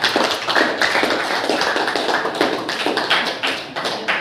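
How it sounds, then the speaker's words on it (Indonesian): A classroom audience applauding a student picture group, a steady, dense wash of many hands clapping, close and loud from start to finish. "Beri aplaus untuk kelompok gambar"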